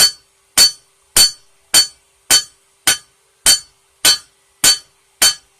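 A small nail being hammered flat, ten sharp, evenly spaced metallic strikes ringing out alone at a steady rhythm, each one loud and clean with a brief decay.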